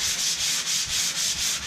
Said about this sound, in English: Any raised areas you want to sand down.